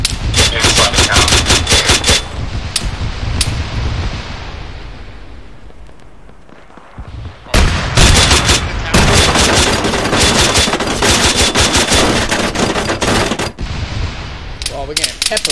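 Heavy, sustained automatic gunfire in an Arma 3 town battle with a tank nearby, loud dense bursts that fade briefly into distant shots before erupting again in long rapid volleys.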